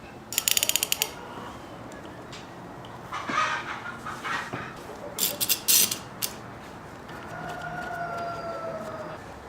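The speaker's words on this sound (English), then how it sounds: "now I can glue it up and clamp it" Clamps being tightened on glued pallet board pieces in a cold workshop: bursts of ratcheting clicks and metallic rattles, a couple of quick clusters with a steady mechanical whir between, close and fairly clear with no talking.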